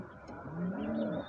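A single soft coo from a domestic pigeon kept for breeding, faint and close, a brief rising warble lasting just over a second.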